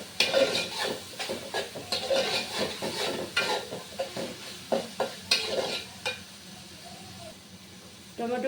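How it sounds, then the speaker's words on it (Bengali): Vegetable fried rice with soy sauce and pepper being stirred in a sizzling pan: repeated scraping and clinking strokes of the spatula in a steady rhythm over a soft frying hiss, close by, ending in a quieter pause. "এখন ভালোভাবে নেড়ে চেড়ে দেব।"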